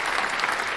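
A short burst of dense clapping from a group, loud and continuous throughout, with no clear individual claps standing out.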